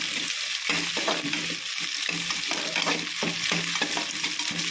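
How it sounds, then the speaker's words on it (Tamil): Egg for fried rice fries and sizzles steadily in a pan while a utensil stirs and scrapes it in repeated rhythmic strokes, close and fairly loud, with no talking. "இப்போ முட்டை உடச்சி ஊற்றியாச்சு இது வந்து நம்ம இதை வந்து நல்லா பொடி மாசு மாதிரி ஆச்சிடும்"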